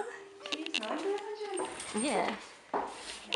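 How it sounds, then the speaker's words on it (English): High thin whimpers and squeaky yips from young puppies, close by, mixed with soft background noise. "Hello, little puppies."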